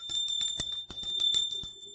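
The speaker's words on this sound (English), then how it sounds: "So I'm going to ring the bell" A small bell rung to clear energy during a tarot reading, a rapid series of bright metallic dings with a sustained high ring, close and fairly loud.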